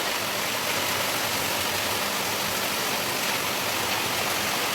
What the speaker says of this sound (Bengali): প্রচুর ঝড় বৃষ্টি হচ্ছে